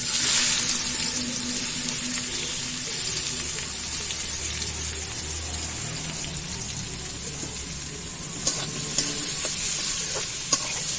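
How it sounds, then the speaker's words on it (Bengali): Chopped onion frying in a pan, a dense even sizzle that runs steadily throughout, with a few sharp stirring clicks toward the end. "পেঁয়াজটা ভালো করে ভেজে নেব"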